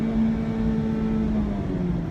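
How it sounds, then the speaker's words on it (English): Engine of a 2017 Mazda Miata MX5 Club Sport revving hard and bouncing off the rev limiter, a sustained droning engine note with a slight dip near the end, heard from the cabin. "Bounced off the rev limiter."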